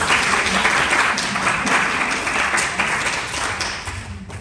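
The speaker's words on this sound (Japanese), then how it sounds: "改めまして参加された選手の皆さんに大きな拍手をお願いいたします。" Loud, sustained applause from an audience for the players at a yo-yo contest, a dense wash of clapping that tapers slightly at the end.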